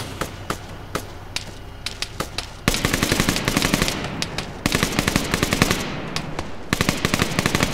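Sustained bursts of automatic gunfire in The Last Man military shooter game, rapid rhythmic volleys that grow louder and denser midway, near and punchy with short gaps between strings of shots.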